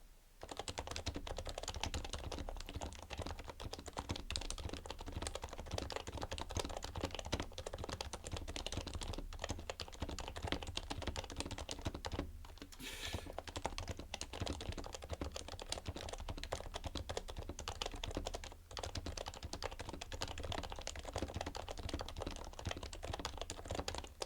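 Continuous typing on a Happy Hacking Keyboard PD-KB800W, a steady close-up patter of keystrokes with brief pauses, no talking over it.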